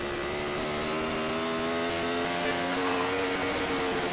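Formula Pacific racing motorcycles roar through a road-course section at an AFM 2014 race, and their engines drone steadily and loudly under load, holding a continuous high rev tone for the whole stretch with no voices.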